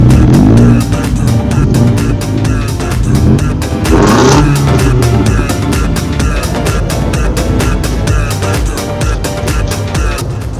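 Expensive tuned Japanese cars at a car meet rev their engines loudly and close by, with rising and falling throttle blips over a continuous engine roar.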